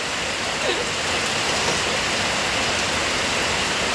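Steady, dense downpour of heavy storm rain falling all night, a constant loud hiss with no voices or other sounds.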